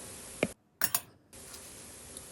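A few sharp clinks of glass or ceramic against utensils as cucumber salad is plated onto a dish, close and quiet, separated by short silences.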